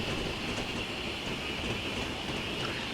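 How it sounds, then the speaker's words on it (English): Steady rumble and rail noise from a train in the Train Simulator game, heading for a collision with a wagon and derailment; a dense, continuous roar with a high metallic whine throughout, with no distinct impact standing out. "We're gonna crash into the wagon and derail."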